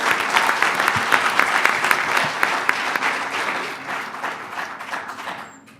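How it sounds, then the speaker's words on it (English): A business competition audience claps for a presenter, a full, even burst of applause that stays strong and then tapers away near the end, with no talking over it. "Just give Laura a round of applause"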